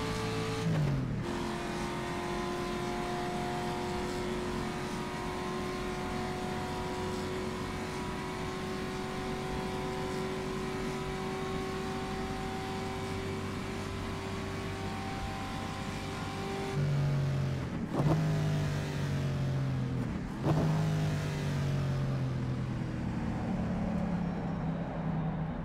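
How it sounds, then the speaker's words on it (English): Steady engine drone of racing cars on an oval in the rFactor 2 video game, 1956-era cars, with a couple of louder whooshes as cars speed past near the end. "Hear the cars running by on the oval."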